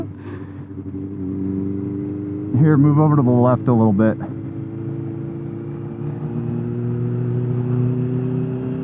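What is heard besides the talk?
Honda CB650R motorcycle with loud aftermarket exhaust revving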